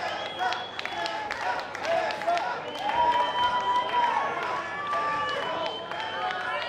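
Wrestling crowd at a Tessa Blanchard and Miranda Alize match cheering and clapping steadily, with many voices rising and falling in a dense, sustained roar throughout.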